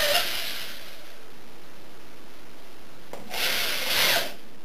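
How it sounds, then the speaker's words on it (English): A power drill fitted with a half-inch stop bit bores into the casing of a sealed battery, giving two short grinding bursts with a pause between them, close and moderately loud. "I've replaced the pilot drill with a half-inch stop drill bit."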